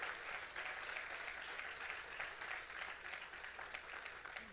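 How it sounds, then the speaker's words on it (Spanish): A church congregation applauds during a worship service, a dense, even wash of clapping from many hands, heard at a distance and fairly quiet. "le diera un aplauso más fuerte al Señor en esta hora"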